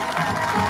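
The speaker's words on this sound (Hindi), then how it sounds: "एक बार ताली बजाओ सभी।" Crowd noise at a live Rajasthani bhajan performance, a dense, steady wash of audience clapping and cheering, loud and close throughout the short moment.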